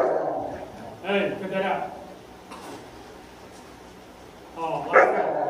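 American bully dogs in a kennel bark in two short, close bursts, and someone speaks briefly between them.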